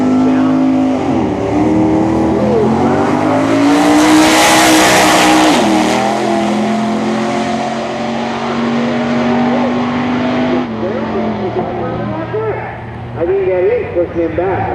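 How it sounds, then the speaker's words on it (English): A Bakersfield-glass 1969 Camaro drag race car with a 470-cubic-inch engine at a drag-racing meet, its engine note droning and shifting in pitch throughout while an announcer talks loudly over it. "In the Bakersfield glass 69 Camaro, 470 cubic inches, and one nasty de-gasser Mopar over in the automobile"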